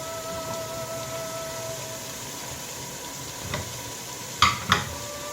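Sri Lankan style fried rice sizzling in a pan as freshly grated carrot is mixed in, a constant close crackle with a couple of sharp utensil scrapes near the end.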